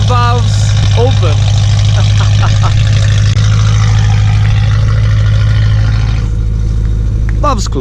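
BMW M3 E92 V8 idling with the exhaust valves open, a loud steady low rumble holding throughout while a person talks over it.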